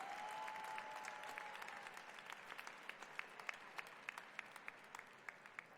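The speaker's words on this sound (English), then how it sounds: "how about a final round of applause for our doctoral, master's, and postgraduate certificate recipients?" Sustained applause from a large audience at a university nursing ceremony, steady dense clapping that slowly thins, with a faint tone fading out early and sharper individual claps standing out toward the end.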